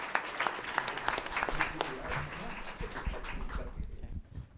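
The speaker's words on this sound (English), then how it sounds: "let's give Michael a round of applause" An audience at a veterans' panel event applauds a cinematographer, a dense wash of many hands clapping at moderate distance that fades toward the end.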